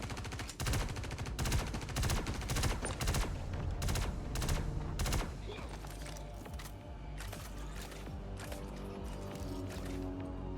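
Gunfire in a video game, including sniper rifle fire: a dense burst of loud, rapid shots in the first half, then sparser, fainter shots over steady game noise.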